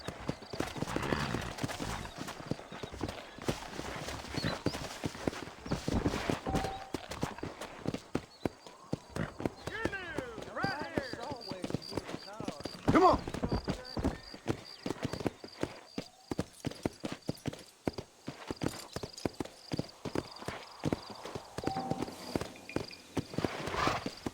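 Horse hooves clip-clopping steadily in Red Dead Redemption, a continuous galloping beat with occasional whinnies, close and loud throughout.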